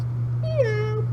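A person imitates a cat's meow, one drawn-out, close, nasal mew that bends downward over about half a second, over a steady low electrical hum.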